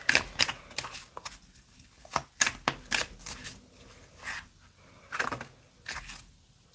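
Tarot cards being shuffled by hand, a run of crisp riffling bursts and soft slides coming in irregular clusters, close and fairly quiet with brief pauses between handfuls.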